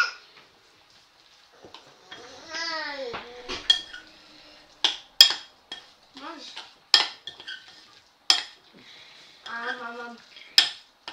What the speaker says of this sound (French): Donc là, on mélange au pesto.